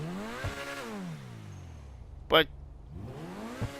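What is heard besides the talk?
Progen Itali GTB engine revving in GTA V video game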